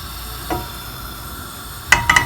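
Whole spices crackle and sizzle as they hit hot oil in a pan for paneer pulao, with a soft pop early on and a cluster of sharp spits near the end over a low steady hiss.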